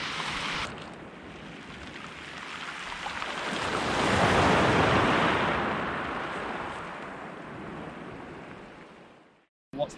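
Ocean waves at a beach roll in as a broad hiss that swells to a peak midway and slowly recedes, with some wind buffeting and an abrupt cut near the end.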